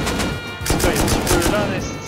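Rapid gunfire from Escape from Tarkov crackles in a dense burst of shots, loud and close, with a shouted voice over it.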